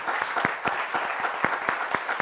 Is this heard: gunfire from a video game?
no